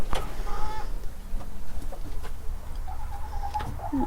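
Close backyard chickens, including a broody hen, cluck and murmur in short, uneven bursts, with a few higher calls toward the end over faint outdoor background noise.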